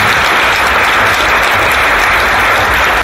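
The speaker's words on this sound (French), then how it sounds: "Encore applaudissements pour vous tous." An audience at an entrepreneurship event launch claps for a group of young entrepreneurs: steady, loud, sustained applause from a large crowd with no pause.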